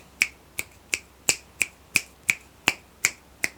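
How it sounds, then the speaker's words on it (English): Ten crisp finger snaps at a steady, even pace, close and clear against a quiet background, recorded on a Comica Traxshot shotgun mic in stereo mode, shifting between left and right. "as I snap my finger, the audio changes between left and right in stereo mode."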